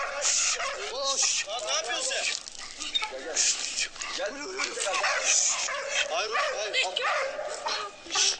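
A pitbull yelps and whimpers in high, strained cries over steady background noise, with people talking loudly throughout.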